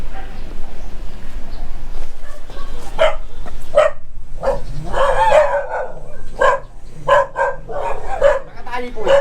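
A dog barks repeatedly on a neighborhood street in Fairview, Quezon City, with a series of sharp, fairly close barks over constant street noise while people talk.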